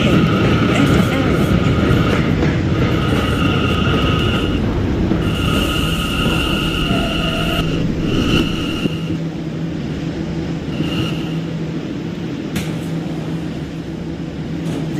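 An R179 B subway train pulls into a station with a loud, continuous rumble and screech of wheels, and steady electronic tones from the car sound throughout. A voice speaks over the noise.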